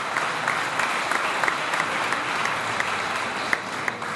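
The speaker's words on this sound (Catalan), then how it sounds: "fins i tot m'aplaudiu educadament" An audience in a church setting at a tribute event applauds politely, giving steady, moderate clapping from many hands that holds an even level with scattered sharper claps.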